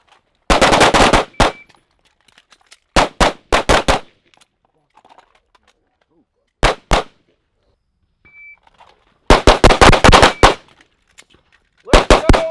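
Gunshots ring out in a shooting drill, in loud clustered bursts of rapid shots separated by pauses and a lone shot, with faint beeps between strings and no talk.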